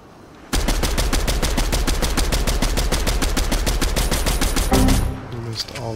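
Rapid automatic gunfire in the Fortnite video game rattles out as a loud, evenly spaced stream of shots for over four seconds, then stops abruptly.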